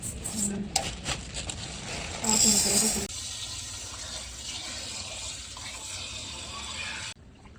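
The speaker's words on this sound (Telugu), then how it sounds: "ఇలా రైస్‌నైతే కడగాలి." Rice being rinsed in water while preparing biryani at home: swishing, splashing water with a louder sloshing burst early on, then a steadier trickle and a brief clatter before it cuts off.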